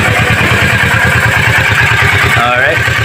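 Kawasaki 650 motorcycle with a stock exhaust idles loud and close, its steady pulsing thump running the whole time while a person talks over it.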